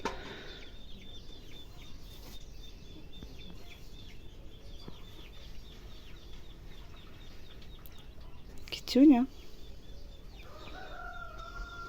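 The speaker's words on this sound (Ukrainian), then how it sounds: "десь в стороні кухні ця співає півень" Quiet background with a faint distant rooster crowing, then a single brief louder crow nearer by from the direction of a kitchen; a short word is spoken early on.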